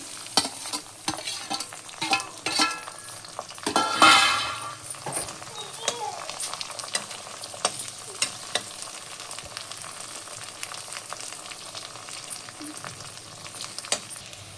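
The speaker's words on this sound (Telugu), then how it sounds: "నూనె వేడెక్కిన తర్వాత ఉల్లిపాయలు, పచ్చిమిర్చి, కరివేపాకు వేసుకోవాలండి." Onions, green chillies and curry leaves frying in hot oil for a brinjal prawns masala, a steady soft sizzle broken by scraping stirs and a few clinks of the spoon against the pan.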